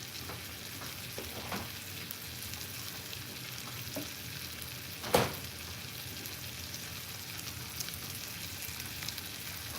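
Butter sizzles quietly in a frying pan with a soft, continuous crackle, one louder clatter midway and faint utensil sounds, no talk.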